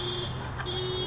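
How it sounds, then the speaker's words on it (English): A car alarm blares at a baseball game after a foul ball strikes a vehicle, a steady electronic tone holding through the short clip with a brief dip midway, over crowd ambience. "And a car alarm goes on."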